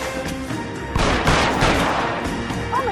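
Gunfire in the crime video game L.A. Noire, a dense burst of loud shots and booms over a constant background bed of game sound.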